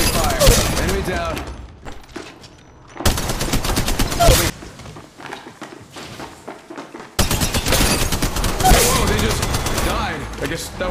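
Dense bursts of gunfire in the mobile battle royale game Apex Legends Mobile, loud rapid volleys in three stretches with game sound effects and brief quieter gaps, voice lines heard alongside.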